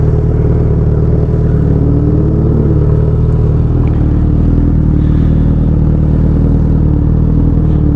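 A 1000cc Suzuki GSX-S motorcycle rumbles close by at low revs while it is parked in a car park, a steady, loud engine drone with a slight clatter and no speech.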